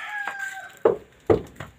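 A chicken calls nearby, a few sharp clucking bursts spaced apart after a brief drawn-out crow-like note, with quiet background otherwise.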